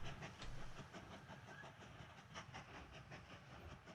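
A train running on a rail line in the video game Mashinky, in a UK and Ireland setting: a steady low rumble with faint rhythmic clicks and a light hiss, moderately quiet and continuous, with no voices.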